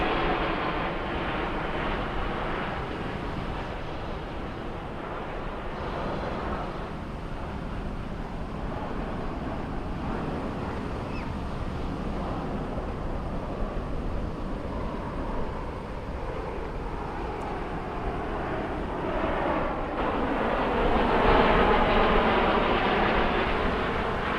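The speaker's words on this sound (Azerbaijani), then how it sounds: "MiG-29 kırıcı bombardımançı" A MiG-29 fighter-bomber passing over a military parade in Baku gives a loud, continuous jet roar that swells and shifts in pitch across the whole stretch, growing strongest near the end.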